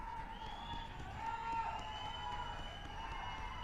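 A crowd at a men's 5000m final of an All India Police athletics championship cheers a runner as he rounds the curve, a steady, fairly distant roar that holds for the whole stretch.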